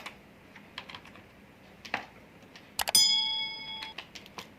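Typing on a computer keyboard in Microsoft Word: a brisk run of close, light key clicks in irregular bursts, followed by a short bright ding that rings on briefly.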